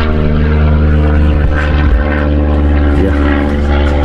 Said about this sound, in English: there are a lot of airplanes up here